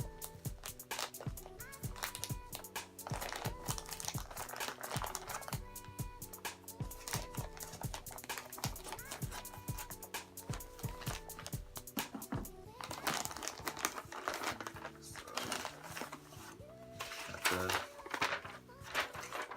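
A t-shirt package is handled and cut open with scissors up close, with busy crinkling plastic, snips and rustling in quick irregular bursts and no pauses.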